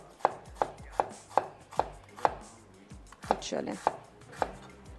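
Knife chopping onions on a board for a pasta dish, with about ten sharp, evenly spaced strikes close up and a brief voice speaking near the start.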